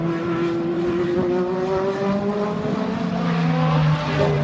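Two race cars pass at Le Mans during the 2017 24-hour race, engines droning loudly and steadily with a sliding pitch as they go by.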